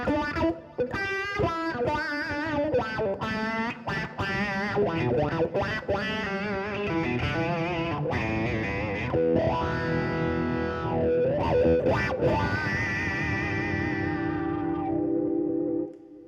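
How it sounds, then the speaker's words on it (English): An electric guitar on its bridge pickup plays through overdrive and a Boss PW-3 wah pedal in vintage mode, with gritty sustained notes sweeping vocally up and down before a final chord rings out. "let's do the same thing now on the bridge pickup, again with overdrive and using the wah in vintage mode"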